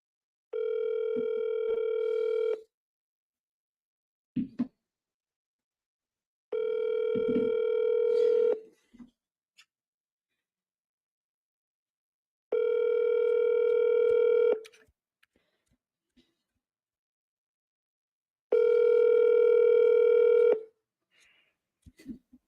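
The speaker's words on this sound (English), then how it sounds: "So what we're going to do right now is we're going to call Jamie again." A telephone call rings out through the handset: four long, steady ringback tones about six seconds apart, with faint clicks and near silence between them.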